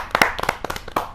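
An audience at a Hindi poetry gathering claps for a poet in a short, close burst of scattered handclaps with no talking.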